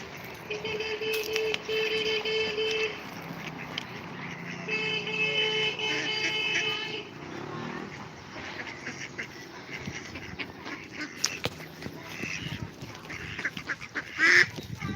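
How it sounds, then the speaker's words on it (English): Ducklings and ducks at a pond, with busy overlapping quacks and peeping calls in two bursts, then softer scattered calls among outdoor background noise. "As you can hear all the little babies quacking."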